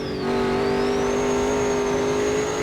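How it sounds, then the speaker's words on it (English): A race car engine in Automobilista 2 drones at steady high revs with a thin turbo whine sliding upward in a boost dump, loud and close, no talking. "That boost dump, that atmospheric boost dump."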